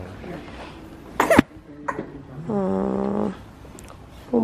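A young boy named Kenneth, unwell and taken to the hospital for a check-up, gives a sharp cough, then a smaller throat sound and a raspy, drawn-out wheezy cough-like noise, with a last short burst near the end.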